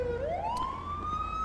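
Ambulance siren arriving in the GTA 5 LSPDFR police game, a loud, close electronic wail that sweeps steadily upward and holds, sounding alone with no talk.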